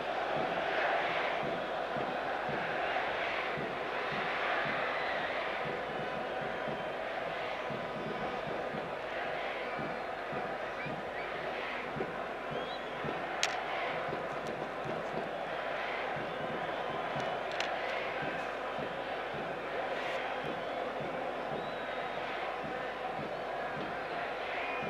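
A large football stadium crowd during a Persepolis FC vs Al Nassr AFC Champions League Elite match roars and murmurs continuously for about 25 seconds, a dense far-off wall of voices under commentary.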